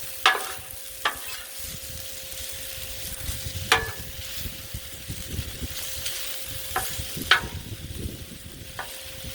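Hamburger hash with bacon cooks on a Blackstone griddle, a steady close sizzle broken by about six sharp metal spatula scrapes as it gets mixed, with no talking.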